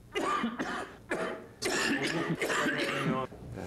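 Someone coughs repeatedly, a series of close, harsh bursts with short pauses between them and a throaty, rasping quality.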